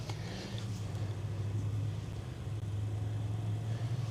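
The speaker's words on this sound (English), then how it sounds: "Got some more cars coming." Cars driving past on a road near a creek during an off-road event give a low, steady engine rumble that stays moderately loud and fairly close throughout, with no talking.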